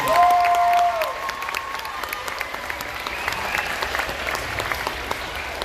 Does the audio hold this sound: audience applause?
yes